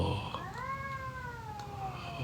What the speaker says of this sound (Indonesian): kedengeran ya suara kucingnya.